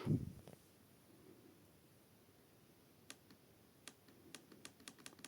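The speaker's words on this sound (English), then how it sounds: "Let me just show you the issue with the trackpad. See, I am clicking here." Faint, sparse clicks of a Lenovo laptop trackpad that is not responding, in a quiet room, a few sharp taps that quicken toward the end, close by and with no talking.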